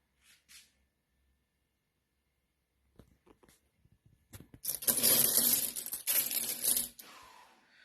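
Loose coins from many countries, including French, Belgian and English pieces from a 14 kg mixed lot, clatter and clink as they are handled: a few faint taps, then a loud, dense jingling burst that fades out.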